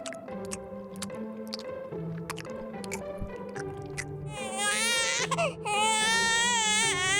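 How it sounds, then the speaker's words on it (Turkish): A Baby Born toy doll's electronic wailing cry starts partway through, loud and warbling, following music and a few clicks. "Peki neden ağlıyorsun Deniz?"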